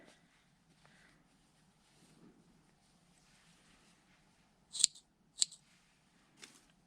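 Scissors snip knitted yarn twice in quick succession, crisp close clicks in a quiet room, followed by a fainter third cut.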